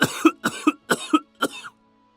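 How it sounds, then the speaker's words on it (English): Four harsh, hacking coughs, each a quick double burst, come one after another close to the listener, then stop into silence. "How long have you had that cough?"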